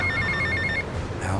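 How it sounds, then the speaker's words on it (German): Telephone ringing inside GTA Vice City: a repeating electronic ring in short bursts for most of the moment, steady under game background noise, then stopping. "Ja, Telefon schon wieder,"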